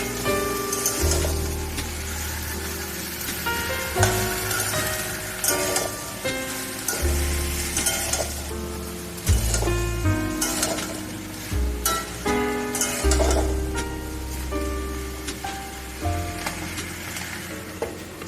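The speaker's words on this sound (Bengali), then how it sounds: "এবার শাকগুলোকে ভালো করে মিক্স করে নিয়ে এটাকে সেদ্ধ হওয়া পর্যন্ত ফ্রাই করে নেব।" Leafy greens (saag) fry in a pan with a steady, close sizzle, broken by repeated scraping and stirring strokes that keep a loose rhythm throughout.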